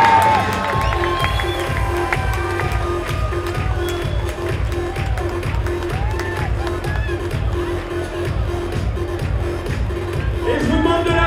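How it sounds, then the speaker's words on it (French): A crowd at an awards ceremony at the Monte-Carlo Fashion Forum applauds and cheers for the Best DJ Performance winner, a dense, continuous roar of clapping, whoops and shouting that holds steady for about eleven seconds. "Et je vous demande de l'applaudir très très fort"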